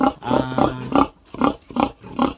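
A boar grunts repeatedly at close range inside a piggery, a run of short, rough snorting bursts in a steady rhythm.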